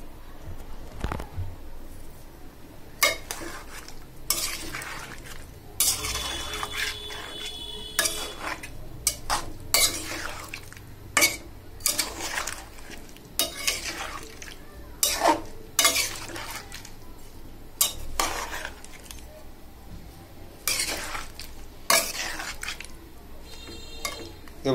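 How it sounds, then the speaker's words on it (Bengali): Vegetables are stirred in a pan while cooking a Bengali fish and vegetable dish. A spatula scrapes and clatters against the pan in repeated sharp strokes over a soft background sizzle, with quiet talk at moments. "এবার আমি একে একে সবজিগুলো আস্তে আস্তে দিয়ে দিচ্ছি। এবার একটু এপাশ নাড়িয়ে দিব।"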